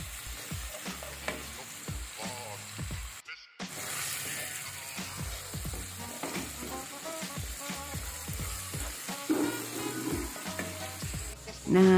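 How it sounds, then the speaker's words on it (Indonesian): Coarsely blended curly chilies sautéing with shallots and garlic in a wok, giving a steady loud sizzle and frying crackle with stirring scrapes throughout and a brief pause partway through. "masukkan cabai keriting yang sudah di blend kasar. Tumis lagi sampai cabainya lemes."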